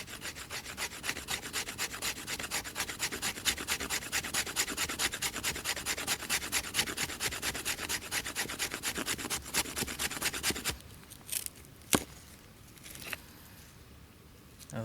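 Ontario ASEK serrated knife carving wood shavings, a fast, steady, close rasping scrape for about eleven seconds, then a few isolated scrapes and knocks in near quiet.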